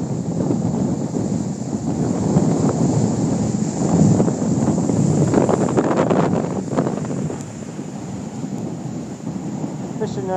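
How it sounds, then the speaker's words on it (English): Strong wind buffets the microphone on a Niagara shoreline during a high wind warning as a big wave surges and crashes nearby, a continuous roaring rush with heavier bursts of surf in the middle. "Here comes a big wave."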